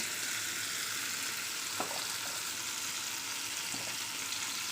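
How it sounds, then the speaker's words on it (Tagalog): Eggplant sautéing in a hot pan, a steady, loud sizzle running throughout with a couple of faint stirring knocks. "Tapos magisa muna ako ng talong."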